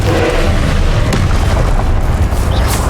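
Confringo fire spell exploding in the wizarding video game Hogwarts Legacy, a loud, dense blast with a deep rumbling boom that fills the whole moment and slowly churns.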